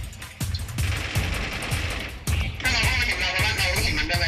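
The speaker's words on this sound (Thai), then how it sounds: "ยิงไม่หยุดเลยนะ" Nonstop automatic gunfire in a shooter video game, a loud dense rattle of rapid shots that barely pauses, growing heavier after a brief break.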